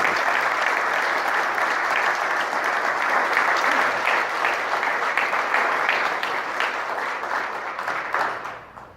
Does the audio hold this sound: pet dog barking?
no